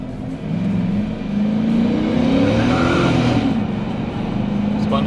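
A Procharger-supercharged Chevrolet Silverado pickup accelerates hard, engine pitch sweeping upward as a tire breaks loose and spins, the loud close-up roar swelling and wavering before easing off.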